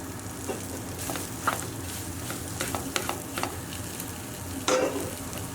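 Cooked Persian rice stirred through prawns in a frying pan, a steady sizzle with scraping spoon strokes and occasional clinks against the pan, no talking.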